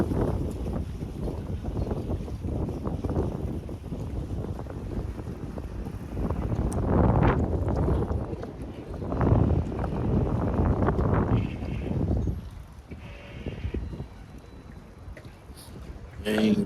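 Steady, roaring wind in Genoa buffets the microphone throughout, with louder gusts swelling and fading, while a person talks intermittently over the rush of air.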